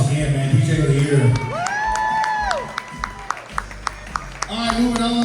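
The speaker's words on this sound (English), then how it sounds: "Give him a round of applause again, man." An awards-show crowd cheers and whoops with some clapping for a DJ of the year winner, voices rising and wavering, followed by a run of sharp, evenly spaced claps near the end.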